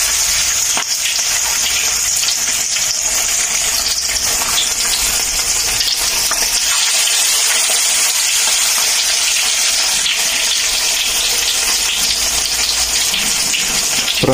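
Roe-laden minnows (pla siu) deep-frying in hot oil, a loud, steady, dense sizzle and bubbling hiss that runs unbroken for the whole stretch, close up and alone with no voices.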